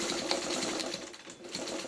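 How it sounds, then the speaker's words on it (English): A sewing machine runs steadily, stitching tote bag straps into the binding with a fast, continuous mechanical whir and close, even needle chatter throughout. "sewing your straps into your binding"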